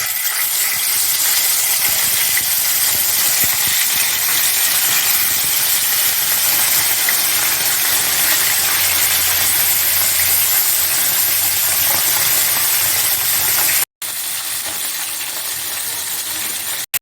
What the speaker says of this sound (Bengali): তেল গরম হয়ে গেছে, এখন আমি তেলের মধ্যে মাছ দিয়ে দিচ্ছি।